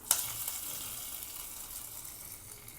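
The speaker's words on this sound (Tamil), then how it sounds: "தாளிக்கிறதுக்கு கொஞ்சம் தேங்காய் எண்ணெய் விட்டுக்கலாம். கடுகு, காஞ்ச மிளகாய், கொஞ்சம் கருவேப்பிலை போட்டு தாளிச்சிட்டு" Coconut oil tempering with mustard seeds, dried chillies and curry leaves bursts into a sharp sizzle that settles into a steady, fading hiss, close up.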